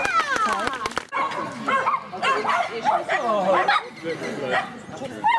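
A dog barks and yips in a rapid run of short barks at an agility competition, then whimpering, yelping sounds follow, close by, with a person talking over parts of it.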